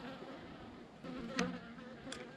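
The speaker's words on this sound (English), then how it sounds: "There's still a few bees." Angry honeybees buzz near beehives, a faint, steady insect drone with one or two bees passing close to the microphone in brief louder swells.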